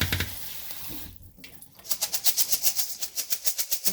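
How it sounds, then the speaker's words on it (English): Lentils are rinsed under a running kitchen tap, with a steady rush of water that turns into a quick, regular splashing pulse as the grains are swished about. "you're going to want to give them a rinse. We'll do this until the water runs clear"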